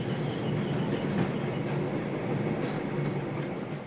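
The Shongololo Express passenger train runs on rails through southern Africa with a loud, steady rolling rumble and faint wheel clatter, heard continuously from on board with no talk.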